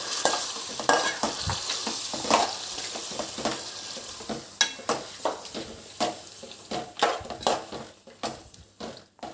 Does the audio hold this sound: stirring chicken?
yes